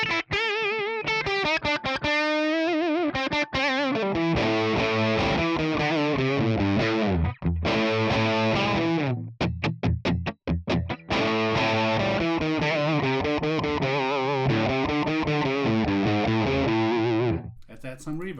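An electric guitar plays through a ToneX ONE amp model with a noise gate and no reverb, giving a loud, distorted tone with sustained chords and melodic lines, abrupt gated stops and quick muted stabs.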